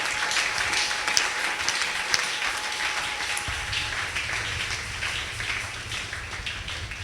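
A church congregation at a Sunday service applauds for the Lord with steady, even clapping, a continuous patter with a few sharper claps.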